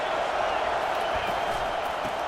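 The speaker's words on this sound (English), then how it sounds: "It is getting loud as this crowd tries to help its defense." A loud stadium crowd from College Football 25 roars steadily at a USC versus UCLA game, a dense, sustained wash of noise without breaks.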